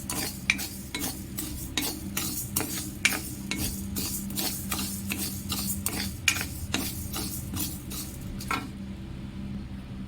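Lentils dry-roasting in a pan, stirred with a spoon that scrapes and clicks against the metal in quick, regular strokes over a faint sizzle, stopping just before the end.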